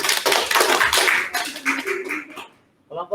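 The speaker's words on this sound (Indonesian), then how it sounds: "Oke, tepuk tangan." A classroom group claps in a brief burst of applause that fades out after a couple of seconds, followed by a short spoken voice.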